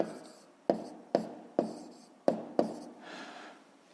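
A pen or chalk writes down a decimal sum in a maths lesson, several sharp taps and scratchy strokes in a steady sequence, close and fairly quiet, ending in a longer smooth stroke.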